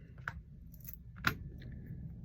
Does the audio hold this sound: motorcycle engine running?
no